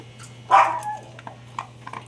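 A dog barks in a kennel while the other dogs eat, one loud close bark followed by a few fainter yips and barks spread over two seconds.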